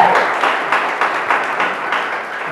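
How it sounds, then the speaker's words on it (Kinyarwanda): A church congregation applauds during a worship service, a dense, fairly loud wash of many hands clapping in rolling pulses, with no speech over it. "Tumukomere amashyi."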